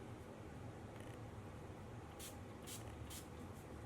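Several soft spritzes of makeup setting spray misted onto a brush in quick succession, faint against a steady low room hum.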